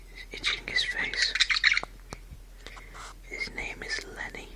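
A budgerigar lets out a burst of loud, harsh squawks and chattering close by, followed by quieter chirps, while a person whispers over the top.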